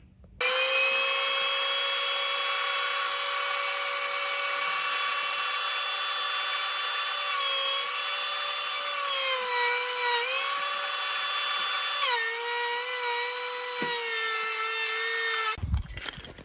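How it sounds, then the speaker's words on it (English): A power sanding machine runs steadily over a surface in a DIY renovation, its loud sustained whine holding for about fifteen seconds with slight pitch wobbles before cutting off abruptly. "what I'm going to do is sand over that, at least with this machine"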